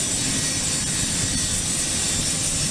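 A powerful aircraft engine roars steadily at Aurora Municipal Airport, loud and close, a constant broad rush with a high whine and no voices.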